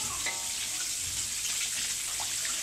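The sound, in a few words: frying stuffed milkfish (relyenong bangus) in oil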